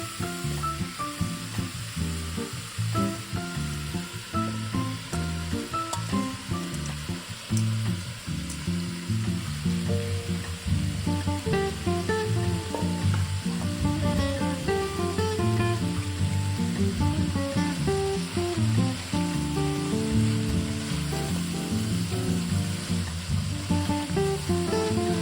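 Zucchini, onion and cabbage sizzle loudly in a soup pot, a steady dense frying crackle with occasional stirring clatter, close and continuous throughout with no talking.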